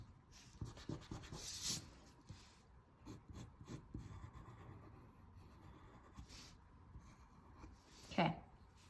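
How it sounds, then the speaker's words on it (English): Pencil eraser rubbing back and forth on drawing paper, with soft scratchy strokes in irregular bursts, close and quiet, plus one or two brief sharper scrapes. "So you can erase in there."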